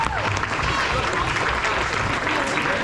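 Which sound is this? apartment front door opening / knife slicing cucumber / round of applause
round of applause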